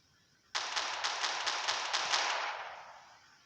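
Automatic gunfire in a Garry's Mod-style shooting game: a sudden burst of about ten rapid, evenly spaced shots lasting roughly two seconds, then a fading echo, loud with no talking.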